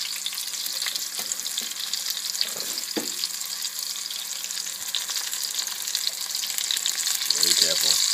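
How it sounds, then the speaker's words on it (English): Chicken and apple patties fry gently in a pan, giving a steady, soft sizzling hiss with a few brief clinks and some quiet talk near the end. "This is a gentle fry."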